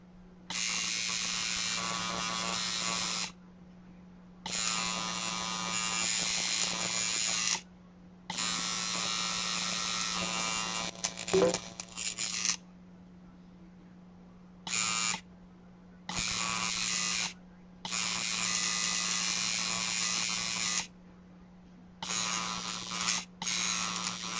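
Electric tattoo machine buzzing steadily during tattooing, in repeated bursts a few seconds long separated by short pauses, close and fairly loud with a constant low hum underneath.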